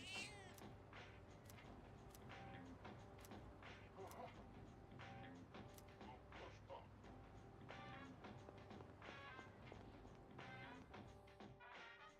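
Cat meowing in the video game Persona 3 Reload, with repeated faint meows and light taps over steady game background sound, no talk.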